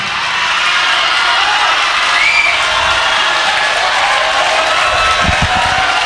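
A seminar audience bursts into loud, continuous clapping and cheering, a dense wash of crowd noise that holds steady throughout with scattered shouts.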